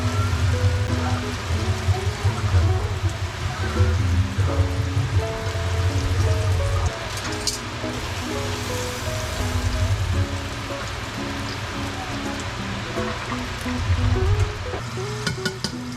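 Breaded fish, kokanee, salmon or trout coated in shake-and-bake mix, fries steadily in a pan, a dense continuous crackle and sizzle like light rain with a low rumbling bed, close and fairly loud throughout.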